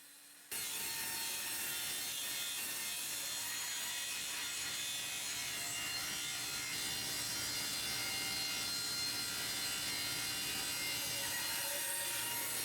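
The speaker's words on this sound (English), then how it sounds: "For my hardwood laminates, I usually take 4 or 5/4 stock and resaw it into 3 equal pieces." Hardwood stock being resawn into thin laminates, a continuous loud, close sawing roar with a gritty rasping edge that starts abruptly after a brief quiet moment and runs steadily to the end; no talk.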